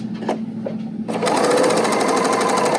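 L890 serger sewing machine stitching fabric, a couple of faint clicks, then a loud rapid continuous chatter of stitching that runs to the end.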